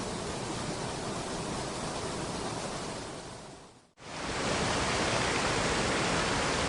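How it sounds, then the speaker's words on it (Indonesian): Roaring waterfall pouring continuously, a dense, steady wash of rushing water close by, with a brief dropout midway before the roar resumes at full strength. "Selamat mendengarkan suara-suara air terjun yang terus bergelora dengan tiada hentinya"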